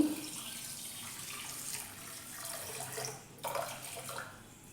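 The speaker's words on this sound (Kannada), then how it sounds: "ಇವಾಗ ನಾನು ಒಂದು ಕೆ ಜಿ ಸಕ್ಕರೆನ ತೊಗೊಂಡಿದ್ದೀನಿ ಹಾಗೆ ಸಕ್ಕರೆ ಮುಳುಗೋ ಅಷ್ಟು ನೀರನ್ನು ಹಾಕೋತೀನಿ" Water pours steadily over a kilogram of sugar in a pan while making gulab jamun syrup, a continuous close splashing stream with a brief louder burst near the end.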